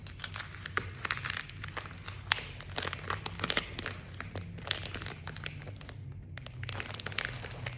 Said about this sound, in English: you're gonna peel that white, or that clear away